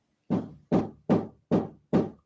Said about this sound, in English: It sounds like somebody knocking at my fucking door.